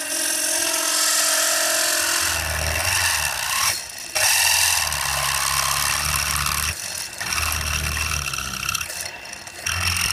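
A drill boring holes through copper with a 1/2 inch bit while making copper handles in a garage shop, a loud steady whine with bursts of lower grinding as the bit bites, pausing briefly between holes.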